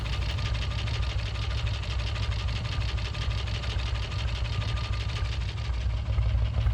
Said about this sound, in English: The exhaust isn't as loud as the Norton, but it has a nice low burble